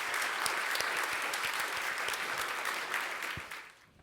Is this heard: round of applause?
yes